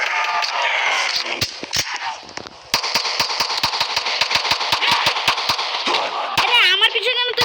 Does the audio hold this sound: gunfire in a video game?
yes